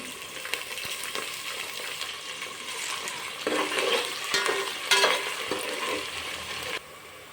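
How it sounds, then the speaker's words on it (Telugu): Onions, curry leaves and green chillies fry in a pan with steady sizzling and stirring, growing louder and busier midway as more goes in, with no voices. "కొంచెం ఉల్లిగడ్డ మగ్గాలి తర్వాత కరివేపాకు వేసుకోవాలి కరివేపాకు మిరపకాయలు కొత్తిమీర పుదీనా"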